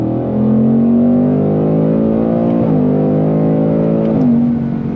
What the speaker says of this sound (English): So you got that classic V8 sound